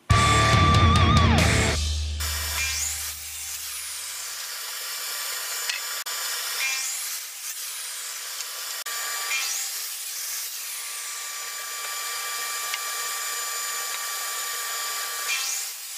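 Pallet wood planks being cut with a power tool for a herringbone coffee table: a loud machine burst at the start, then a long, steady, close rubbing and sawing noise with small scrapes.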